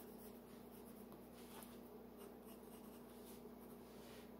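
Brown colored pencil drawing on paper, a faint, steady scratchy scribbling with quick repeated strokes over a low background hum.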